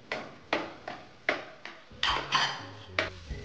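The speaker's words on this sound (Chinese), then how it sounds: "然后加入姜蓉进行翻炒" A spatula clacks and scrapes against a pan as shredded coconut, brown sugar and grated ginger are stir-fried in peanut oil, about eight sharp, evenly spaced strikes with a faint background hum.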